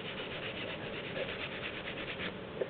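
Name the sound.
brass brush scrubbing gasket goo off a BSA engine case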